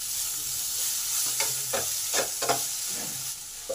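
Potato, drumstick stems and onion frying in an uncovered pan, a soft steady sizzle broken by several scraping stirs of a spatula, close by with no talking.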